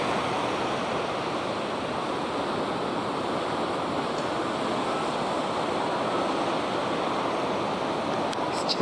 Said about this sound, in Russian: И слышен шум моря.